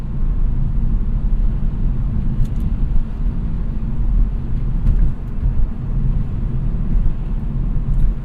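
A steady low engine hum and road rumble fill the cabin of a 2017 Hyundai Elantra Sport with a dual-clutch transmission, heard from inside at constant volume with no talking.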